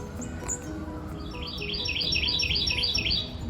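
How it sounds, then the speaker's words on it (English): Bird calling outdoors near a garden, a rapid run of bright repeated chirps rising and falling over a couple of seconds, moderately loud above a steady low background rumble. "And the bird's going off, so."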